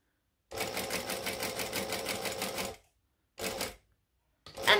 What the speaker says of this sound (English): So then we're going to stitch down along the edge.